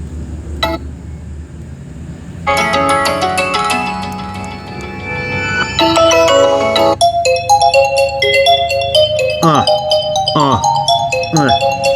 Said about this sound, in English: What kind of system ringtones they got on this Vivo?